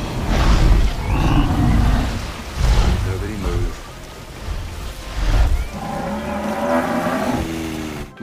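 A buffalo in the Jurassic World Evolution 2 video game gives several loud, drawn-out moos with rising and falling tones over a busy game soundscape, and a voice talks at times.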